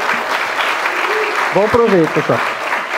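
Audience applause for the presenters at a university project event, steady clapping throughout with someone speaking briefly over it.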